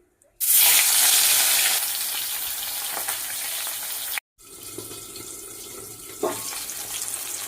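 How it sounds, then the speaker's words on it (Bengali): Rohu fish dropped into hot oil bursts into a loud, sudden sizzle that settles into a steady, close frying hiss, with a brief break midway before the spitting resumes. "আগে মাছটা ভেজে নেব।"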